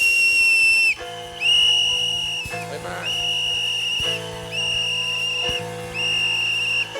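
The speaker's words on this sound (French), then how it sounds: "Dieu vient de siffler." Whistle blowing in repeated long shrill blasts, about five of them with short gaps, loud and close, a brief spoken word among them.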